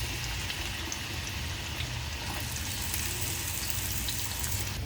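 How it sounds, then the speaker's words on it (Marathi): Sweet potato pieces fry in hot oil, a steady, close, bubbling sizzle with a fine watery crackle that continues evenly throughout, with no voices. "इथे आपण रताळे तळतोय."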